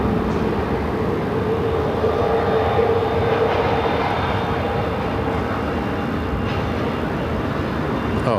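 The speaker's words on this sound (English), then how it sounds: "next arrival on 26. Southwest Flight 452 coming in from Denver" A Southwest Boeing 737 MAX 8 from Denver arriving on runway 26 at Phoenix: a steady, even jet-engine roar that holds at a constant loudness throughout.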